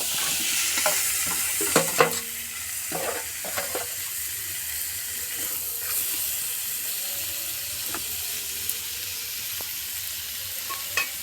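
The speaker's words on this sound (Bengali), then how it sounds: "এগুলোকেও একইভাবে এ পিঠো পিঠ করে অল্প ভেজে নেব" Paneer pieces fry in a pan with a steady, close sizzle and occasional light clinks and bumps as they are turned, without any talk.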